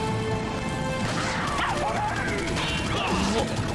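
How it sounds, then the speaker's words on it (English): Dog barking in the video game Resident Evil 4, yelps and whimpers mixed with crashing and whacking impacts amid dense game noise and music, all loud and continuous, with players talking over it. "That was a dog."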